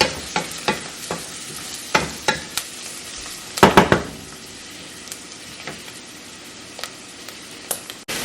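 Four cloves of chopped garlic fry in a pan for a potato curry, giving a steady soft sizzle with repeated sharp clacks of a spoon stirring against the pan.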